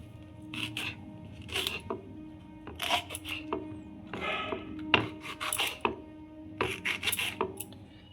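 Green chillies being chopped with a knife on a board for pickle: a run of short, crisp cutting taps in irregular bursts, close and fairly quiet, with no talking.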